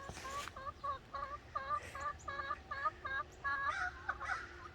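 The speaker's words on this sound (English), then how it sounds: "Them chickens are up on your roost." Chickens cluck in a steady run of short, repeated calls, fairly close, with a few higher squawks mixed in over a faint outdoor background.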